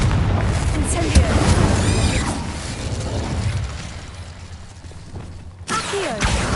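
Hogwarts Legacy fire and blasting spells, Incendio and Confringo, cast in combat as a string of muffled booms and bursts, mixed with game action sounds and a voice shouting incantations over them.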